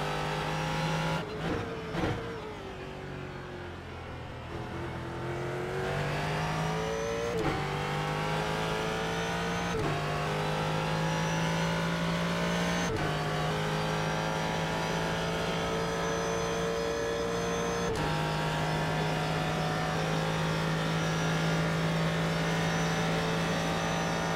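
Ford GT3 race car running at Daytona in iRacing, a loud, steady engine drone with clear harmonic whine, rising in pitch after brief shifts and holding high through a long straight.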